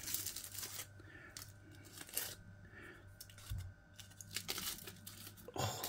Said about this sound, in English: Let's get them unwrapped from this foil and have a taste.